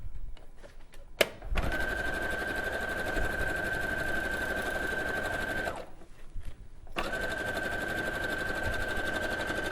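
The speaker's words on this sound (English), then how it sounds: "So just sewing along each of those raw edges." A sewing machine stitching along the raw edges of fabric for a quilted bag, a close, steady motor hum with rapid needle clatter that briefly pauses midway and then resumes.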